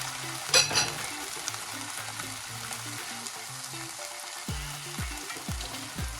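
Chayote stir fry with soy sauce and vinegar in a pan, sizzling as water is poured in, a bright hiss burst near the start settling into quieter bubbling frying, with a few tonal hums and clicks later, no voices.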